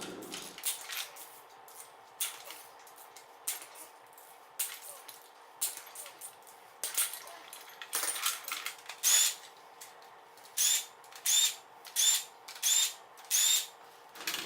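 An impact tool loosens bolts on an LS engine during a teardown, short bursts at first, then a series of evenly spaced loud rattling hits near the end.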